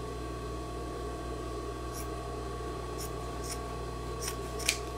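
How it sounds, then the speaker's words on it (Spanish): Scissors snip through a fabric waistband and its lining in a tailoring workshop, a few short crisp cuts over a steady background hum, with no talking. "cortamos por el centro la pretina"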